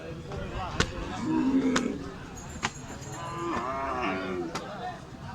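A very large cow moos a couple of times nearby at a cattle market, low and drawn out, amid sharp knocks and background chatter of people.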